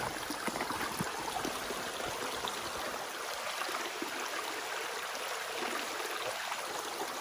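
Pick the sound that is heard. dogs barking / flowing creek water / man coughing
flowing creek water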